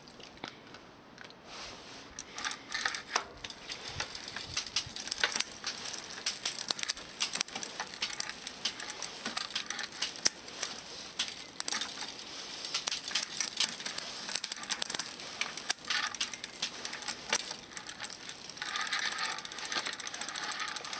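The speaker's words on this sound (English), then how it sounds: "So I've adjusted these screws so the chain happily jumps up to the cogs." Bicycle chain on a repaired bike clicking and ticking over the rear cogs as the freewheel spins, a fast irregular ratcheting chatter that runs continuously at close range without voices.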